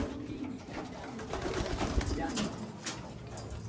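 A grizzle racing pigeon handled up close, giving soft low coos among rustling and handling noise, with faint background sounds.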